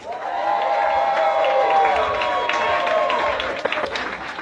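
A studio audience at a live podcast taping cheers, claps and whoops to vote for a contestant, a loud sustained crowd roar lasting about four seconds before tapering off.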